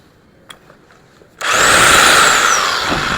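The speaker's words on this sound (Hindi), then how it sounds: "800 वाट का लासीला का ड्रिल मशीन है, और सबसे पहले मैं आप लोगों को इस पे ये चला के दिखाता हूँ" An 800-watt electric drill running on solar power, with no battery or inverter, starts after a few faint clicks and then whirs loudly and steadily on its own.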